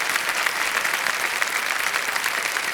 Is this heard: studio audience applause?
yes